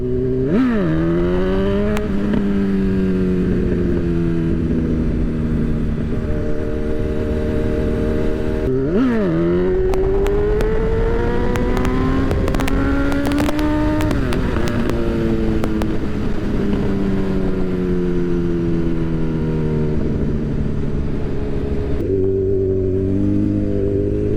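A motorcycle engine revs repeatedly for a wheelie, its pitch climbing and dropping through several throttle blips and sustained pulls, loud and close throughout with no talking.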